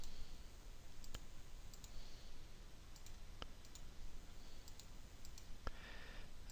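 Computer mouse clicking in quilting software, a handful of sharp isolated clicks spaced irregularly over faint background hiss, quiet and close.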